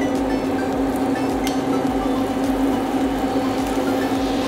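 Boiling caramel with butter bubbles and sizzles steadily as Thatcher's lemon cider is stirred in, a continuous close frothy hiss with soft scraping underneath.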